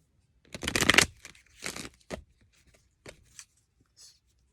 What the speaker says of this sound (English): I feel like the big ones might be easier to shuffle